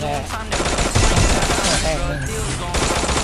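Loud, continuous gunfire from the mobile battle-royale game Free Fire rattles in dense bursts throughout, with a voice mixed in beneath the shots.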